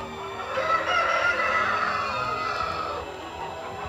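Chickens and roosters at an industrial poultry farm in Tirana, a dense, continuous chorus of clucking and crowing from many birds at once, loud and close, with no talk.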